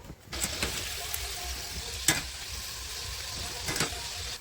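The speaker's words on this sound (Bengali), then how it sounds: "তেলটা গরম হচ্ছে গরম হলে রুমি এগুলো ভাজা শুরু করে দেবে" Food fries steadily in hot oil, a quiet, continuous crackling sizzle with a few sharp clicks from stirring.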